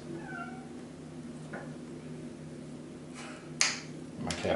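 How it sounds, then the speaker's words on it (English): A cat meows to be let in, giving several faint, short meows over a low indoor hum, with a slightly louder call near the end. "My cat wants to come in."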